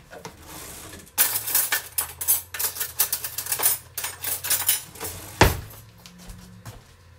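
Metal spoon clinking against a blender jug holding tomato basil soup, in a Pampered Chef deluxe cooking blender: a busy run of sharp, close clinks and taps, then a single louder knock and a few quieter clatters.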